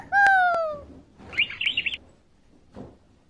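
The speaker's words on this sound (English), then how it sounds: "canary." A canary sings in a kids' animal sounds app, starting with a bright descending whistle and then a rapid trill of chirps, followed by a fainter short call, clear and close.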